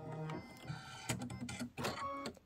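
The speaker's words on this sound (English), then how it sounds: "This is going to stitch the front seam line." An embroidery sewing machine stitches a front seam line in cream or red thread, a quiet close mechanical chatter of rapid clicks and whirring pulses with uneven bursts, no voices over it.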